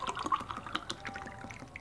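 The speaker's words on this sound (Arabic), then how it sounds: "3 كوبايات من المية،" Tap water pours over white sugar in a kitchen vessel, a soft, close trickle and splash with small irregular drips, fairly quiet and alone.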